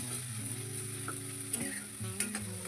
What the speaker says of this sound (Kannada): ಶುಂಠಿ ಬೆಳ್ಳುಳ್ಳಿ ಪೇಸ್ಟು ಹಸಿ ವಾಸನೆ ಹೋಗೋವರೆಗೂ ಹುರ್ಕೊಳ್ಳೋಣ.